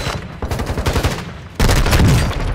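Gunfire in Call of Duty: Modern Warfare 2, loud rapid bursts of automatic weapon shots close up, rattling through the first half and then a heavier sustained blast of firing.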